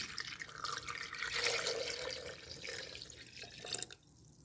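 Steady stream of three cups of water pouring into a container for cucumber lemon water, continuous and close, tapering off at the end.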